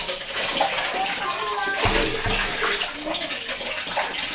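Water gushes steadily into a sink being filled, a loud, continuous rushing splash with voices talking over it.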